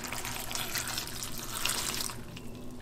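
Tap water, about two cups, pouring steadily over chile piquin peppers in a kitchen, a continuous splashing rush that stops abruptly near the end.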